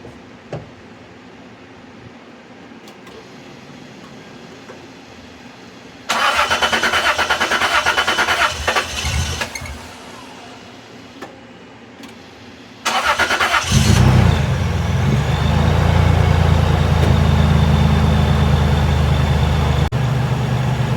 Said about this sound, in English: the engine fan is drowning out any other noise right now